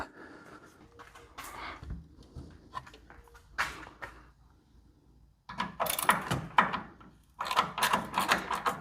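A socket ratchet clicks while working inside a 1974 Ford Maverick interior, with close bursts of metallic ratcheting and handling noises broken by pauses and growing busier toward the end.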